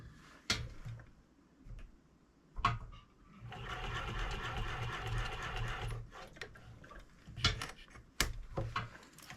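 A sewing machine stitches a fur hunting muff in a rapid, steady burst of a couple of seconds, set between scattered clicks and knocks of fabric and machine handling, close and moderately loud.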